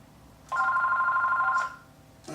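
A telephone rings in a home office, one sustained electronic ring burst of about a second, loud and near, followed by quiet and the start of another sound at the end.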